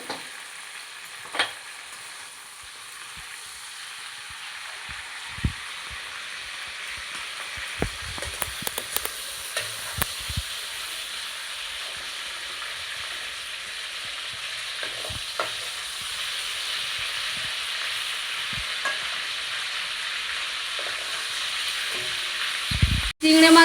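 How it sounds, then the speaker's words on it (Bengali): Prawns frying in hot oil for a bottle gourd curry, a long even hiss of sizzling with scattered small pops and occasional utensil knocks, growing slightly louder toward the end, no one speaking. "আমার চিংড়ি মাছটা ভাজা হয়ে গেছে। চিংড়ি মাছ বেশি ভাজবো না, ভাজলে শক্ত হয়ে যাবে।"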